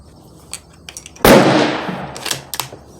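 A single loud, sharp rifle shot fired while zeroing a scope at 50 yards before a black bear hunt, its report cracking close by and trailing off in a long decaying echo, with faint handling noises before and after.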